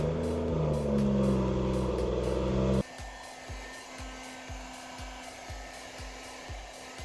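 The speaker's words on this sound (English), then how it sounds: "We're gonna heat it up with the heat gun as much as possible" Heat gun warming a reflector on a BMW M340 car bumper: a steady loud blowing whir with a tonal hum that suddenly cuts to a quieter level partway through, followed by faint rhythmic rubbing and clicking.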